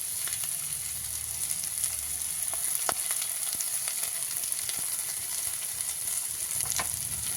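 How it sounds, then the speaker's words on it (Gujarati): Vegetables for Manchurian fry in a pan with a steady close sizzle, broken by sharp crackles and occasional stirring clicks, with no voices. "આપણું શાકભાજી એકદમ સરસ ફ્રાય થઈ ગયું છે"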